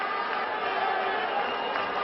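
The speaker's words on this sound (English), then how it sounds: "Crowd was so noisy because of this fellow." Steady roar of a large, noisy cricket stadium crowd at a BPL 2012 semi-final in Bangladesh, a continuous dense wash of voices with no distinct cheers, filling the whole stretch at a fairly even level.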